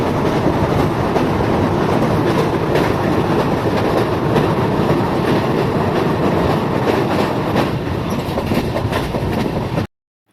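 The Janmabhoomi Express running on rails between Sattenapalli and Secunderabad, a loud continuous rumble with steady clickety-clack from the wheels, heard from aboard, cutting off abruptly at the end.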